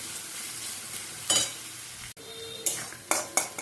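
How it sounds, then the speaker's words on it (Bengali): Pabda fish frying in a pan gives a steady, quiet sizzle, with a few louder bursts of stirring and spatula scraping nearby, no talking. "একটু ভেজে নিচ্ছি।"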